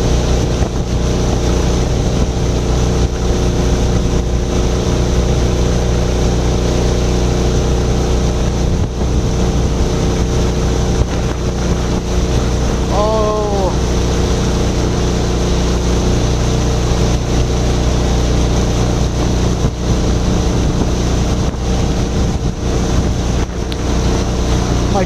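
A Mokai motorized kayak cruises along Steamboat Slough in Marysville, Washington, its small engine droning loud and constant throughout, with wind buffeting the microphone.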